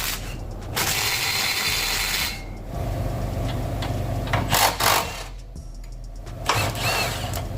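Ratchet wrench clicking while backing out transmission bell housing bolts on a 2000 Dodge Ram with a six-speed manual, close rapid bursts of ratcheting separated by short pauses, no talking.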